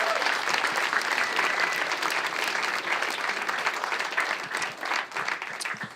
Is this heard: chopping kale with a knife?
no